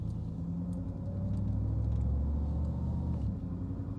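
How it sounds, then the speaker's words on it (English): A 1989 Pontiac Trans Am GTA engine shifting into second gear at low speed: a steady mid-loud rumble builds, then drops abruptly as the gear changes, with no talking. "Oh, nice shift into second gear."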